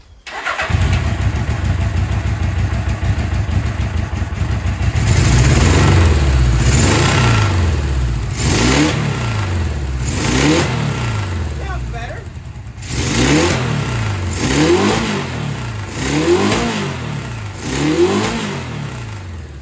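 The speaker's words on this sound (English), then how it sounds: "Turn that idle up just a hair. Starts right up." 1978 Suzuki GS750 motorcycle, an abandoned project bike, starting up and idling roughly, then revved repeatedly in short bursts that climb and fall in regular waves, close and loud, with brief speech between.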